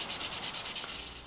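Sanding on antique wooden buffet legs, a quiet, steady rasping rub in rhythmic back-and-forth strokes, close up and alone.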